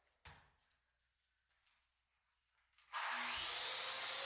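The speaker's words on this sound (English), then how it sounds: "I definitely need a new sanding pad for my sander." A few quiet knocks and scrapes, then a loud electric sander with a worn sanding pad starts up on a butcher block cutting board and runs steadily with a dense, high-pitched whirring hiss.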